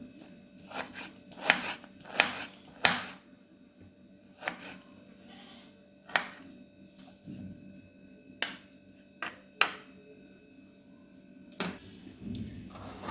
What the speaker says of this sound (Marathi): बघा बारीक कांदा कापून घेतला